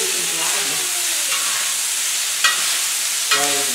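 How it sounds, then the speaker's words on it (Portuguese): Bacon sizzles and crackles steadily on a hot plow-disc pan, with occasional scraping clinks of a utensil stirring it, close and loud. "aí você vai deixar fritando até ele ficar dourado?"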